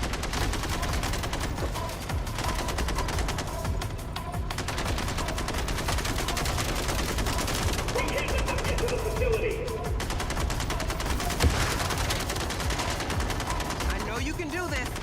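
Sustained rapid turret gunfire shooting down drones in a video game, dense continuous bursts running throughout at steady loudness, with voices talking underneath.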